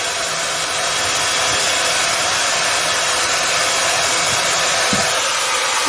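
A Makita 5806B circular saw left running with no load, a loud steady high-pitched whine and rushing air that holds constant throughout, with a few faint low knocks underneath.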